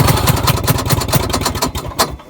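A small flooded engine sputters and runs unevenly, its pulsing low firing beats close and loud for a couple of seconds before tapering off.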